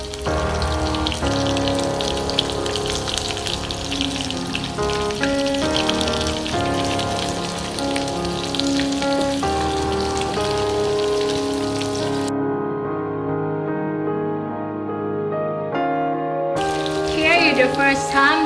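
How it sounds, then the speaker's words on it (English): Tempura deep frying in hot oil, a steady dense sizzle and crackle like heavy rain close by, continuing throughout with a brief change partway through. "I think this is the correct way to fry tempura."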